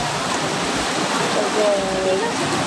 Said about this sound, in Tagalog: Kasi po, sobrang lakas ng ulan.